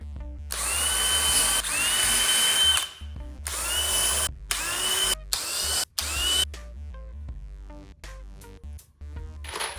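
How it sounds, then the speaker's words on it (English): A power drill whirs in several bursts of rising pitch, pre-drilling holes in wood, stopping and restarting, close by, followed by a few quieter clicks and knocks. "pre-drilling these holes is gonna make it not only a lot easier"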